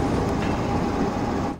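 A Golconda Express runs between Warangal and Kazipet in an Indian train simulator game, giving a loud, steady rumble of rolling rail wagons with a faint high whine. The sound holds throughout and drops slightly at the end.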